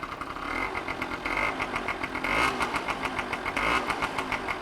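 Engine of a 2002 Yamaha BW's scooter held up on its stand, revved with a few short throttle blips over a steady idle, close and fairly loud with no talking.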